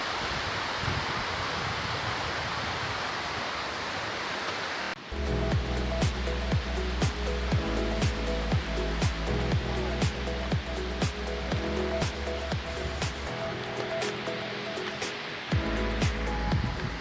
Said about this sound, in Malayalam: വെള്ളച്ചാട്ടത്തിൻ്റെ സൗണ്ട് നിങ്ങൾക്ക് നല്ലോണം കേൾക്കാൻ പറ്റുന്നുണ്ടാവും.